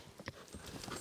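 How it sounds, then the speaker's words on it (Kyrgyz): Hooves of a five-year-old Karabair racehorse in Kyrgyzstan clop in a quick, faint sequence of soft thuds outdoors, lasting only about a second. "5 жаштагы ат экен, мына жерде кашка ат."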